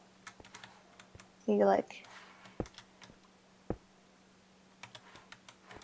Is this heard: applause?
no